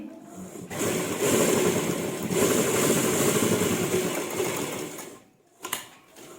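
A sewing machine runs in sustained bursts, stitching along both sides of a pair of ladies' pants, its rapid whirring motor steady and close before slowing to a brief stop near the end.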